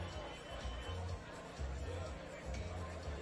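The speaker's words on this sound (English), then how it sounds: "got a pretty good crowd on hand here at the Blue O's playing fields" A crowd murmurs in a steady, low babble of voices and chatter at the Blue O's playing fields during a Bahamas Games softball game, heard faint and distant.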